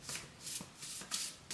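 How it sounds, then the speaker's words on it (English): Tarot cards being shuffled by hand close up, a few soft riffling bursts in quick succession, quiet and dry with no talking. "Let me get one more shuffle"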